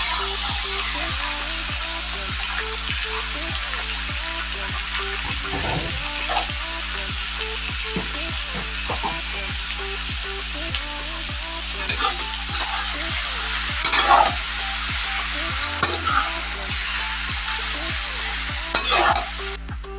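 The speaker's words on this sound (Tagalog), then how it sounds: "Ilalagay na natin yung pusit." Squid sizzles and fries in a pan with onion for adobong pusit, a loud continuous crackle with occasional stirring scrapes and a low electrical hum beneath.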